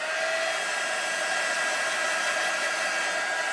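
A hair dryer blows steadily and loudly at close range over a stamped card colored with watercolor pencils, a continuous even rush of air with no break and no voices.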